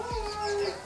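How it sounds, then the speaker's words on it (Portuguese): A small bird held in the hand at a country house lets out a single close, clear chirp with a sustained whistling tone, with no talking over it. "o Gabriel tá pegando um passarinho"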